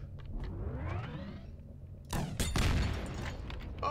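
Rocket jump in the shooter game Plazma Burst 2: a low rumbling engine-like drone with rising whine, then a sharp explosive burst around the midpoint followed by a louder roaring blast and crackling debris.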